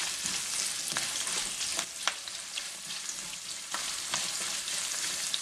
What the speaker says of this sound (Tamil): ஒரு கொஞ்சம் வதங்க வெங்காயம் போடலாம்.